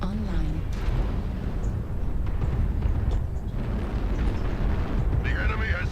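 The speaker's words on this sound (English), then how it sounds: "Airstrike online." Heavy explosive booms from airstrikes in the mech combat game MechWarrior Online roll through a dense, continuous low rumble, with sharp bursts scattered across the battle and a brief electronic chirp near the end.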